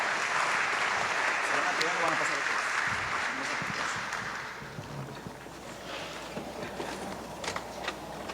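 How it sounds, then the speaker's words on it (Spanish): Audience applause at a Pan American Health Organization (WHO) event in Peru: a dense, steady wash of clapping for about four seconds, then it thins and fades into quieter room sound. "Un aplauso para todos ellos por su asistencia y participación."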